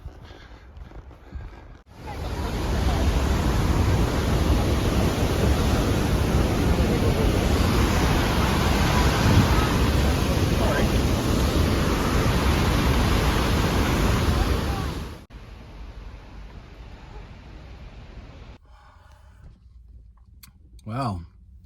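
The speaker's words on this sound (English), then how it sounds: "I can hear the roar of the falls" A steady, loud roar of rushing water from a waterfall and river in the Jasper backcountry, a broad unbroken wash of sound that fills the middle stretch, then drops away to quieter surroundings with a few faint nearby sounds.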